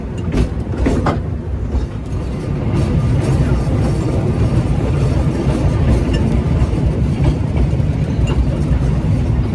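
A tram on the Soller railway in Mallorca rumbles along steadily, loud and close, with a constant low drone of the wheels and carriage and occasional faint rattles.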